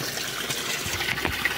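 Water pours steadily into a container, a close, continuous gushing fill with no talking.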